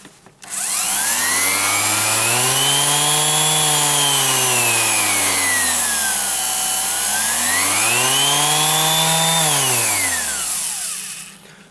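A Bosch GEX 125-1 AE random orbital sander whirs loudly and continuously near the microphone, its motor pitch rising and falling twice in smooth sweeps before spinning down.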